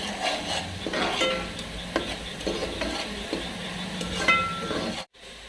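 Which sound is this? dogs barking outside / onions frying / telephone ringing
onions frying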